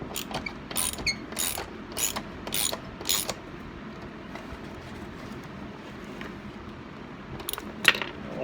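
A 1/4-inch socket ratchet works on front passenger seat bolts, giving a string of quick clicking ratchet bursts at close range, then quieter shuffling and a few sharp metallic clicks toward the end.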